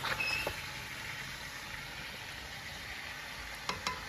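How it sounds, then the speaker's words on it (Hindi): Chicken sizzles steadily in a pan with whole nihari spices, a constant close frying hiss with a few faint utensil taps at the start and near the end. "अब थोड़ा सा इसको भून के फिर हम इसे गलने के लिए हल्की आंच पर छोड़ देंगे"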